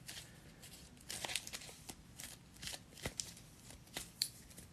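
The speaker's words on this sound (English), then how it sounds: "I don't know how well I can shuffle like that because these are all sleeved" A deck of sleeved playing cards shuffled by hand, giving soft, quiet riffling and slapping bursts in irregular clusters with faint ticks between them.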